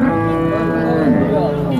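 A dairy cow at a cattle market moos loudly and close, one long, deep, sustained bellow that holds steady from start to finish.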